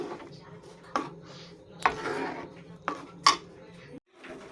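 A spoon stirs payesh with cashews and raisins in a pot, giving several sharp metallic knocks and scrapes against the rim at irregular intervals over a low background hum.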